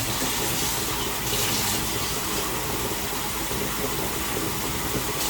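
Water running and splashing steadily into a cooking pot, a cup of water added for a shepherd's pie, a continuous close wash of liquid noise with no talking.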